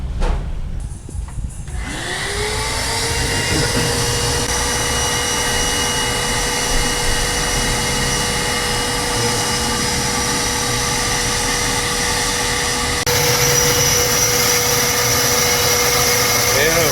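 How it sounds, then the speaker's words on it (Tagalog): A makeshift vacuum's motor whirs up after a brief rustle and holds a steady droning hum of suction through a hose, pulling debris from a 4G63 DOHC cylinder head, shifting slightly in pitch near the end, loud and close. "So gumawa lang akong makeshift na vacuum."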